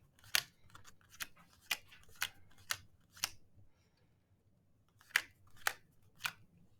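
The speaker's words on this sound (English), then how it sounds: "count 5 cards for your opponent for them to look at" Playing cards dealt out one by one in a card game, about nine crisp snapping card slaps at an uneven pace with a short pause midway, close but quiet, no voices.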